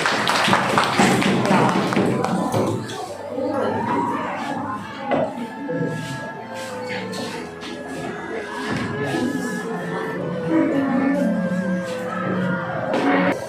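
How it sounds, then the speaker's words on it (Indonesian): A classroom of students gives a round of rhythmic clapping to welcome group A, with busy hand claps and taps at first, then murmuring voices and other room sounds. "Kita beri tepuk tangan dulu."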